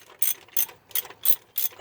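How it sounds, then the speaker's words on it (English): Ratchet wrench working loose the motor bolts on a Nissan 300ZX during an engine pull, five quick, evenly spaced bursts of close, crisp clicking with brief pauses between strokes. "See how far back this ratchet is?"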